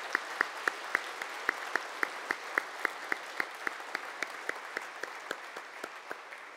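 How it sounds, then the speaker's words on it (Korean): A congregation in church claps together in a steady, even rhythm, a soft and fairly distant round of applause that slowly tapers. "감사하는 마음으로 하나님께 영광의 박수를 올리겠습니다"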